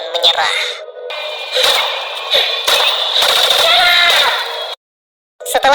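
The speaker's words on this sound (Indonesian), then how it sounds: "Coriolanus yang kesal melepaskan tembakan ke segala arah sampai akhirnya kehabisan peluru" Rapid gunfire in a film scene set in a dark post-civil-war era, a man firing in every direction until the ammunition runs out; loud, dense bursts mixed with shouting voices, cutting to brief silence near the end.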